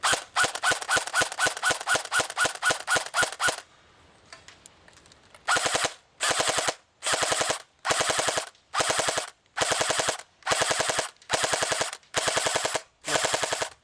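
An airsoft gun with a modified JMag fires at an outdoor target. A fast, steady stream of sharp shots comes first, then a pause, then a slower run of evenly spaced cracking bursts.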